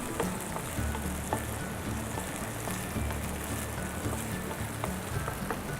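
Chili mushrooms sizzle and fry in a pan with red chili sauce and tomato sauce as they are stirred, a steady close crackle broken by soft irregular scraping knocks, with no talking.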